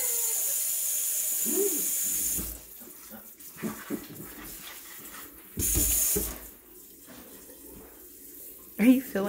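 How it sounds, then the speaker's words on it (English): A running water tap filling a container and rinsing it, with bursts of strong steady flow that stop and restart, alongside quieter splashes and people talking nearby. "Are you filling it up? Yeah, rinse it up."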